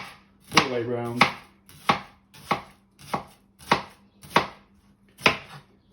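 A knife cuts through an onion on a board, close and crisp: one longer rasping stroke followed by a steady series of about seven sharp chops in an even rhythm, with no talk.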